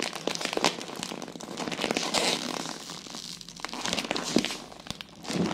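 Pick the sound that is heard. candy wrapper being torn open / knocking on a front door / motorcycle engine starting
candy wrapper being torn open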